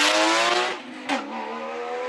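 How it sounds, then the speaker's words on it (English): A 2001 Porsche GT3 race car accelerating up the Cape Town hill climb, its loud exhaust note fading as it pulls away, then rising again briefly in a sharp burst before holding a steady, fairly close roar. "Just listen to how that thing sounds up the hill. Exhaust, boy."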